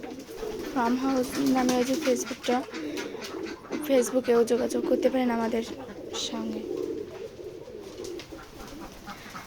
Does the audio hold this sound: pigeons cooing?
yes